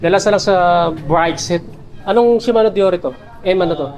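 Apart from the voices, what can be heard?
No everyday noises stand out.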